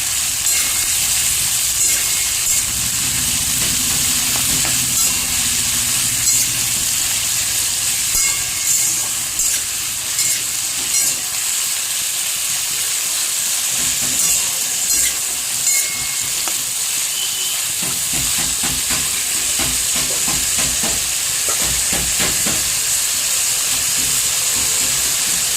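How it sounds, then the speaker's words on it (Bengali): Small cut potato pieces frying in oil make a loud, steady hissing sizzle that stays close and even, with light clicks of stirring toward the end. "আলুগুলোকে ছোট ছোট করে কেটে রেখেছিলাম, ওগুলো তেলেতে মিশিয়ে দিয়ে একটু ভাজবো"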